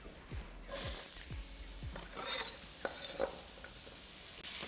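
Onion goes into a hot pan for Basque chicken, a sudden burst of bright sizzle followed by stirring scrapes and a couple of knocks, close but fairly quiet, with no one speaking.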